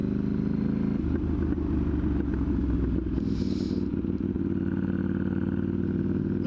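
A loud motorcycle engine drones steadily while riding, close to the microphone, with rumbling throttle changes and a brief rush of wind or scrape midway.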